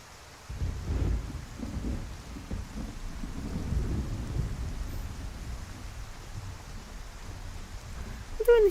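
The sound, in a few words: rain and thunder in Skyrim VR video game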